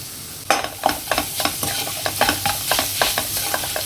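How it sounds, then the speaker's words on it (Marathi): Grated raw mango sautéed with onion and turmeric for raw mango rice, a brisk sizzle with rapid spatula scrapes and clinks against the pan, close and loud. "आता सगळ्यात महत्त्वाचं आपल्याला घालायचं आहे ते म्हणजे किसलेली कैरी"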